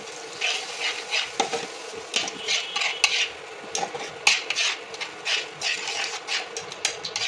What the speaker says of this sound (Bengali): এবার দুধটা দিয়ে অল্প অল্প করে এটার সাথে মিক্স করবো, যাতে লাম্পস না হয়ে যায়